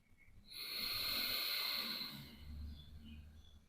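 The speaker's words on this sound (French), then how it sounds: "la respiration ujjayique" A slow, deep ujjayi yoga breath rasps through a constricted throat: a long hissing exhale swells and fades, then a softer, lower breath follows. It is close and quiet, with no talking.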